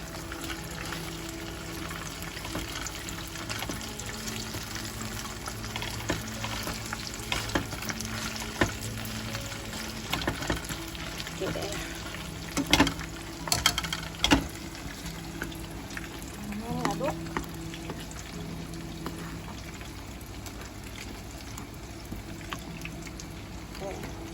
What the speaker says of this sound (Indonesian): Sambil goreng bakwan jagung ya, buat dimakan sama pecelnya nih bareng.